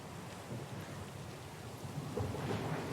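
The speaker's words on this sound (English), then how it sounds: "The storm's pretty loud." Thunderstorm with heavy rain in the video game Pillars of Eternity 2: Deadfire. Steady dense rainfall with rolling thunder rumbling underneath throughout, without pause.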